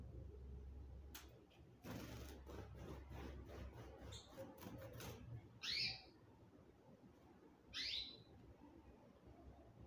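A timbrado canary gives a few brief, faint chirps in a quiet room, two short trills standing out against low background hum and a few soft knocks.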